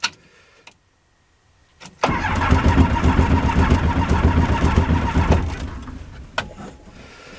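A Rotax 912 aircraft engine cranks and catches after a brief starter burst, then runs loud and steady close by for several seconds before settling and easing down. No one speaks.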